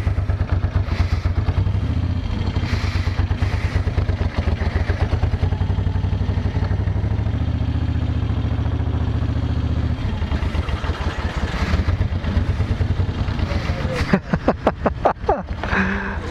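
A 1970s Moto Guzzi California cruiser engine runs steadily with a deep, throbbing low rumble and mechanical clatter, warm with a touch of choke, close by, then a few sharper revs near the end.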